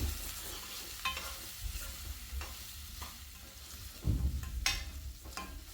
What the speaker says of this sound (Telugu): ఇప్పుడు ఇదంతా బాగా కలిపి పచ్చివాసన పోయేంత వరకు ఫ్రై చేయాలి